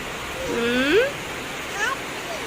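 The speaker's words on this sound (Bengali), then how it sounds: "ইয়ে, মীরা বৃষ্টি পড়ে।" Rain falling after dusk in Comilla, Bangladesh, a steady broadband hiss filling the background while a person speaks over it in short phrases.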